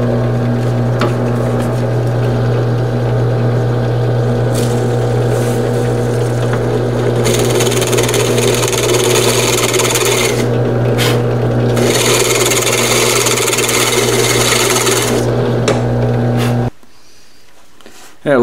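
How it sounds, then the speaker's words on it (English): A power drill with a step bit drills holes, running steadily with a loud, close motor whine and a harsh grinding rasp as it cuts, continuing for many seconds before cutting off abruptly. "We'll get drilling some holes."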